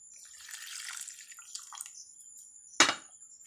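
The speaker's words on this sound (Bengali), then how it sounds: "আরও এক বাটি জল দিয়ে দেব" Water is poured from a bowl into a flour dough mix for pakan pitha, a soft trickling splash that builds faintly before one sharper, louder splash near the end.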